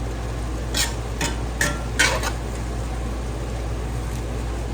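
Zucchini noodles cooking in a pan, a low steady sizzle with a few short scraping stirs near the start, fairly close and without talk.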